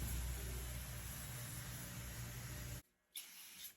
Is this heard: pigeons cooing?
no